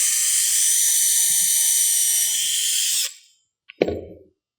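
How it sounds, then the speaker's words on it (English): A drill bores a pilot hole for a screw into a deck railing spindle with a steady high-pitched whine for about three seconds, then spins down and stops, followed by a couple of brief clicks and a short clatter. "I'll take my drill bit and get it right in the center of that spindle and"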